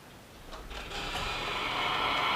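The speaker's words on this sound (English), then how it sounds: "the vacuum here so it will suck the particles and the dust in and keep it out of my face" A shop vacuum switched on beside a disc sander to pull away dust and particles, a whooshing roar that swells quickly and then holds steady and loud, with no talking.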